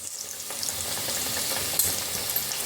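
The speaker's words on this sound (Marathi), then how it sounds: "आणखीन एकदा दाखवतो तुम्हाला करंजी तळून." Karanji, Maharashtrian wheat-flour pastries, deep-frying in hot oil, giving a steady, continuous sizzle and crackle with small bubbling pops throughout, fairly close and even in level, with no voices.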